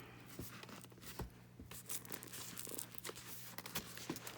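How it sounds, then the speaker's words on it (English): A Reader's Digest book crinkles and crackles softly as its pages are bent open, with faint irregular paper rustles and small tearing sounds, quiet and close. "You can hear it kind of crinkling."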